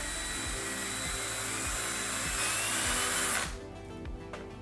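A power drill bores a hole into MDF for a custom subwoofer box, giving a loud, close, steady whine with rhythmic chattering pulses that cuts off sharply near the end, leaving only faint residual noise.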